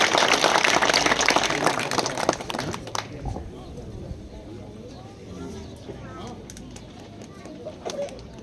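Loud clapping from a village award ceremony crowd welcoming a cabinet minister, strong for about three seconds then fading into scattered claps and murmuring voices.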